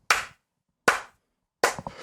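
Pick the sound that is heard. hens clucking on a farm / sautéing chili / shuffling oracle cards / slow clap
slow clap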